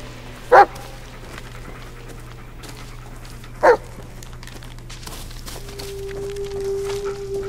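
Bullet the dog in the Blair Witch video game gives two short, loud barks a few seconds apart, with a low steady hum beneath and a thin tone coming in near the end.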